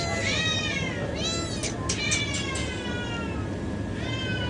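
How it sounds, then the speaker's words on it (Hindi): Several vocal cats in a store meow repeatedly in drawn-out, wavering cries over a steady background hum, close and clear, with faint voices underneath. "ये कुछ में बहुत ही कोई वोकल बिल्लियाँ हैं, लेकिन बहुत ही पालू।"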